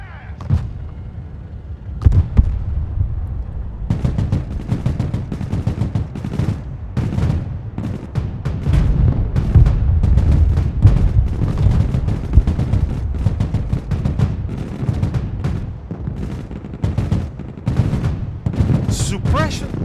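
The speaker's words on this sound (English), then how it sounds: "these guys have mortars falling all over them, and they are still shooting back" Mortar rounds fall and troops keep shooting back in the Broken Arrow war game: dense overlapping gunfire bursts and dull thumping impacts rumble continuously while voices speak over the battle.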